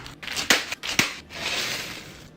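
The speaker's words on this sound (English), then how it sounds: "They're smashing them up now. Careful with those biscuits." Biscuits are smashed inside a black plastic bag, with two sharp crunching blows about half a second apart and then a longer crinkling, crushing rustle of plastic and crumbs, close and loud.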